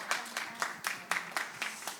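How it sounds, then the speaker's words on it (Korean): Audience at a slow food taste-education lecture on Korean green tea clapping in an even, steady rhythm, about four claps per second, fairly quiet and with no talk. "우리 강윤실 선생님께 큰 박수 부탁드리겠습니다"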